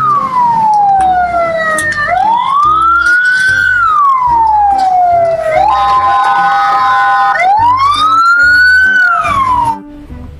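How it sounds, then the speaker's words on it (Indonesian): A toy fire truck's electronic siren wails, rising and falling in repeated sweeps, loud and close, with a tinny melodic tone and no talking. "Wow, yang ini mobil pemadam kebakaran."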